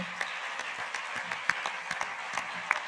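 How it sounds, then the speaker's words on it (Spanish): Applause from an audience at the closing session of a conference: sparse, scattered hand claps at moderate distance, fairly quiet, with a few sharper individual claps standing out against a soft room background. "Entonces queríamos acabar con un aplauso a Isabel, a Jairo, a Germán, a Estela, a Javi, a Elen"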